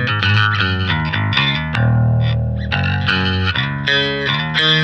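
Bass guitar played through the Rumble factory preset on a budget bass amp, a thick, distorted, chorus-tinged tone with fat low end, sounding as a continuous riff of sustained and rearticulated notes, loud and close with no talking.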